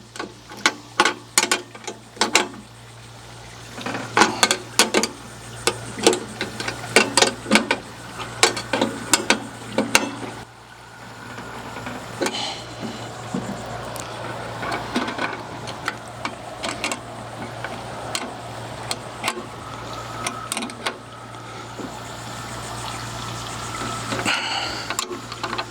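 Bolts being tightened to mount a Magma grill on a boat, with bursts of sharp ratchet-like clicks in close, irregular runs that give way to a steadier, softer mechanical whir.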